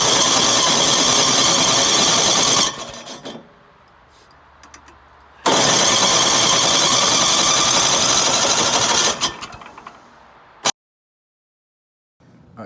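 A snowblower engine with a newly replaced carburetor is cranked by its electric starter in two loud bursts of whirring, each several seconds long, with a quiet gap between them and a brief sharp noise near the end.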